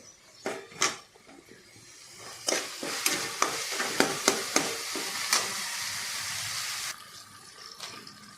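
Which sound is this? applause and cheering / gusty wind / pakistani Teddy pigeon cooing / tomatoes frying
tomatoes frying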